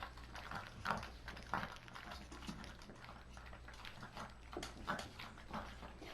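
Young puppies whimper and whine softly in scattered, uneven bursts, with small scuffling and pawing noises mixed in at moderate distance.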